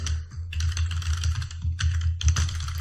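Close, brisk keystrokes on a computer keyboard arrive in quick bursts with brief pauses between them, played over a steady low hum while someone enters text during an ASP.NET validation setup.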